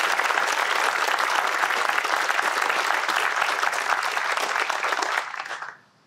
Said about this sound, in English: Please join me in giving Commander Padilla a round of applause for his dedicated service.